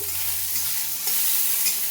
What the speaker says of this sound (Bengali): পেঁয়াজ আর রসুনটা আমি ভালোভাবে ভেজে নেব